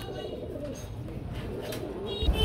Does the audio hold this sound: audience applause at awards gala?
no